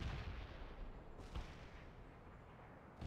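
Armored vehicles open fire in World in Conflict: Soviet Assault, with heavy booming cannon shots cracking out over a rumbling battlefield background, two sharp blasts standing out midway.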